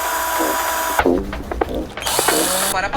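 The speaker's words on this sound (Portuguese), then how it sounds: "Porque eu tô furando." A power drill boring into a home wall, a loud whining drone that stops briefly in the middle and then revs again in short bursts.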